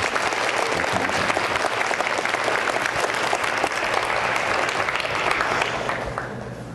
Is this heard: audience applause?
yes